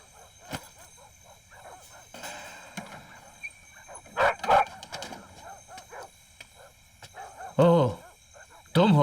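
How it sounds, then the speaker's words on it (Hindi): Dogs bark loudly in bursts, with a few yips mixed in, and the barks cluster toward the end. Quieter talk and background noise fill the gaps between them. "इसीलिए कुत्ते इतनी जोर जोर से भौंक रहे हैं"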